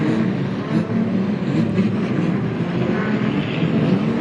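Street stock race cars at Gympie Speedway roar in a steady, dense engine drone as the pack starts the title final, loud and continuous with a faint announcer voice in the mix.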